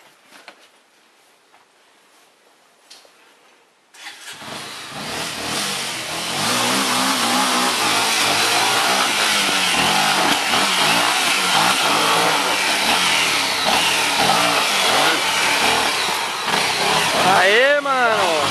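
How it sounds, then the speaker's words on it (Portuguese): A trail motorcycle's engine starts up and revs hard, climbing and falling in pitch as it accelerates up close on a dirt trail, with people shouting and talking over it. "Vai, Reginaldo, acelera."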